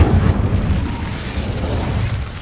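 A fire spell cast in a Harry Potter video game erupts in a loud, rumbling burst of flame that roars steadily through the whole moment without fading.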